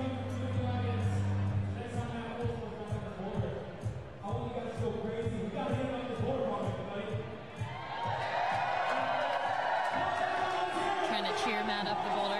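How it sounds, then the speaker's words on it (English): Spectators cheering on a climber at a bouldering competition, with a mix of shouting voices and rhythmic thumping claps that build into a louder, denser roar of cheers toward the end. "Trying to cheer Matt up the boulder."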